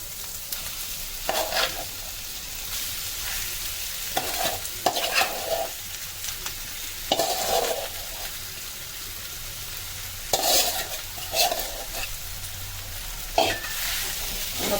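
Smashed potatoes with ginger-garlic paste, salt and peanuts being stirred in a frying pan: soft sizzling underneath with repeated scraping, clattering bursts of the spoon against the pan at irregular intervals, close and alone.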